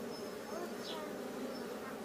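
Honey bees buzz at an open hive during an inspection, a steady close droning hum that fills the whole moment without pause and with no talk.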